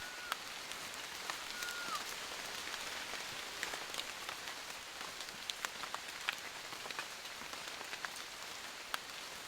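Steady rain pattering on foliage in the Amazon rainforest, a dense even hiss with scattered louder drops, and a faint bird call early on.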